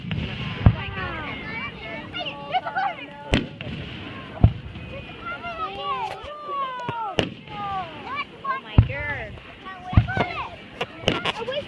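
A backyard fireworks show with sharp, loud bangs and crackles at irregular intervals, mixed with whistling, rising shrieks, while people talk and call out in the background.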